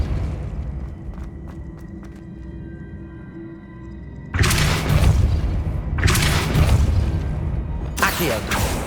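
In Hogwarts Legacy, a Depulso spell blast erupts as a loud, booming burst, followed by a second heavy blast, after a quieter stretch of game ambience and faint tones.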